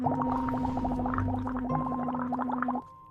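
Water bubbles steadily through a metal straw as part of vocal warm-ups, a continuous rapid gurgling blended with a low hummed voice tone, close and loud, stopping abruptly near the end.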